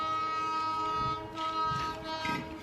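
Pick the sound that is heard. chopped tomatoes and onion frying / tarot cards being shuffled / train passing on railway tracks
train passing on railway tracks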